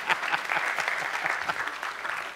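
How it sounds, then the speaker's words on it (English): A seated audience at a talk on music and sensory branding claps together, a short, fairly loud burst of applause with clustered hand claps that holds evenly throughout. "You're allowed to clap."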